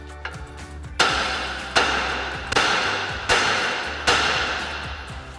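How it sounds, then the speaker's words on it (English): A hammer strikes the outer tie rod on a RAM 1500 pickup's front suspension five times, each a sharp, close metallic blow spaced under a second apart, with faint background hum and no speech. "come in and tap on this with our hammer."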